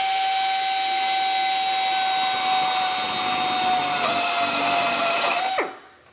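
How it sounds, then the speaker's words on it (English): A drill bores a quarter-inch hole through a motorcycle fender on a Victory Cross Country, making a loud, steady high whine with a hissing edge that holds for about five seconds before spinning down and stopping. "We're just going to drill it out."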